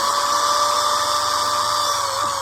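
A power drill bores holes into a plastic pool skimmer basket, giving a steady, close, high-pitched whine that holds throughout without speech.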